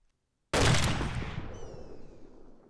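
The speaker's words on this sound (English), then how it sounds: "If I fire at this target, he should die first shot." A single loud sniper rifle shot from the Arma 2 ACE video game cracks sharply after half a second of silence, then trails off in a long echoing decay.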